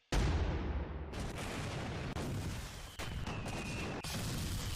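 Explosions from the Tower of God anime erupt as a loud sharp blast, followed by a rolling series of booms and crackling bursts with abrupt cuts between them.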